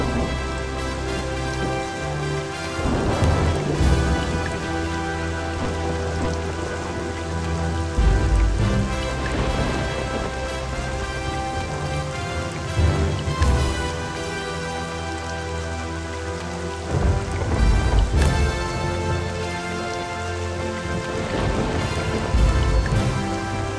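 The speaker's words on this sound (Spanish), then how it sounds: "por fin, la lluvia" Rain falls steadily and loudly across a surface, continuous and dense, with occasional swells that suggest a storm.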